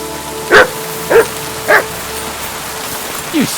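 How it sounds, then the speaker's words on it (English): A dog in the video game Kingdom Come Deliverance 2 barks four times, short loud woofs spaced about half a second apart and then a longer gap before the last, over a soft background. "You silly doggy."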